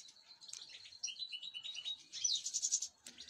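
Caged goldfinches chirp and twitter in quick, high, bright bursts, the song swelling and growing busier toward the end before a brief pause, with no one speaking.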